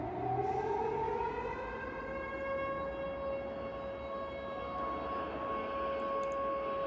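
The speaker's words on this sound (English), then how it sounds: "all you could hear throughout the city were the sirens warning of a disaster" Civil defense sirens warning of a disaster wail across a city in a dark fantasy drama, a steady rising then holding tone over a low rumbling background, loud and continuous throughout.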